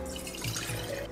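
Water is poured steadily into a container for a lemon matcha drink, a soft continuous trickle heard close up with no talking.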